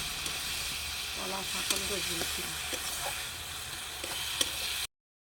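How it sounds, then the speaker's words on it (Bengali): Bhog, an offering meal, sizzles and hisses steadily in a home kitchen, with faint stirring scrapes and a voice briefly talking underneath. "এই যে আমার শাশুড়ি মা ভোগ রান্না করছে"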